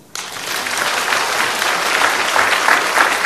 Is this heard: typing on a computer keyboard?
no